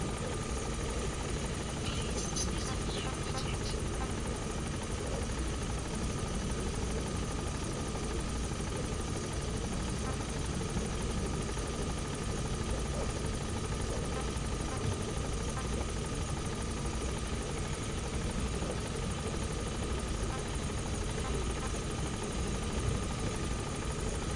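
A helicopter's rotor drones continuously and loudly with a steady engine hum, no talking, in the video game Metal Gear Solid 5.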